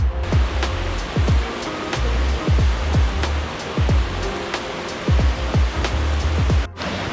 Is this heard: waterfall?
yes